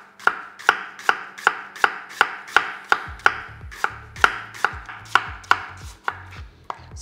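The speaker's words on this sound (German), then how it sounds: "schneide die Zwiebel einfach so runter" A kitchen knife slices an onion downward into long, very thin strips on a cutting board. Around fourteen crisp, evenly spaced chops land close and clear with nothing else heard.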